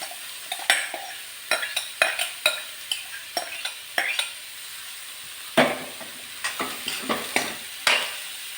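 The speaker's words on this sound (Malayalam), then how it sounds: "എല്ലാം കൂടി നന്നായിട്ട് ഇളക്കി കൊടുക്കാം" Cabbage thoran being stirred in a pan, with repeated sharp scrapes and taps of a spoon against the pan over a faint sizzle, close and rhythmic with no talking.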